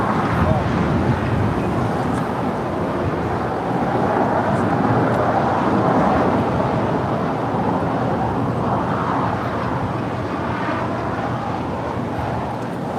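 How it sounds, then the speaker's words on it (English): A four-year-old United Airlines Boeing 737-800 departing LAX, heard as a broad, steady jet roar at moderate distance, swelling slightly in the middle and then holding level. "This is United Airlines Flight 783 departing to Washington Dulles. It's a 4-year-old 737-800."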